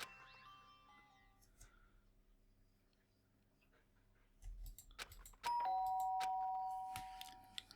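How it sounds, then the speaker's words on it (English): A doorbell chiming in the video game Danganronpa: Trigger Happy Havoc, a clear two-tone ring that sounds out after some quiet, soft clicks and faint background hum. "did I hear the doorbell?"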